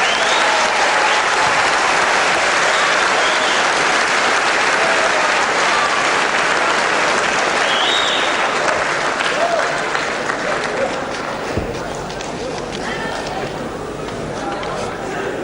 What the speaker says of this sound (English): I'm sure you give both these men a big round of applause